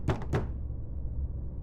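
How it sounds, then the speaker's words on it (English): A door thuds shut twice in quick succession, two heavy close booming impacts followed by a low, rumbling room tail with no voices. "a sudden gust of wind slapped it shut with a resounding thud"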